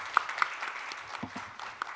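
A conference audience gives sparse, faint applause to welcome a National Assembly member to the stage, a few scattered claps standing out over a quiet room with a murmur of voice.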